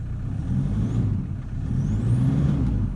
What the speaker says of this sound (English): I've just started the car